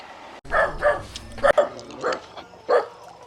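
A dog near a long hanging bridge in the Philippines barks and yips in several short bursts at close range, with no talking over it.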